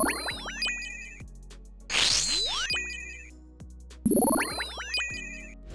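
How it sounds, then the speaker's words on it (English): An edited magic attack sound effect from the video game RuneScape, repeated three times: bright chiming, tinkling tones with rising and falling sweeps, followed by a rushing whoosh and low thuds. "this little edit to the sound of the magic attack, which could sound like this one day"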